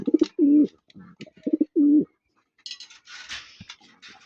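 Racing pigeons coo in a loft, several low, throaty calls in two quick pairs, up close, followed by wing flutters and scuffling.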